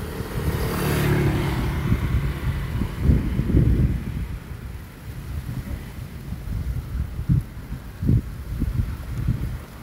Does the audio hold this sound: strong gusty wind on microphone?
yes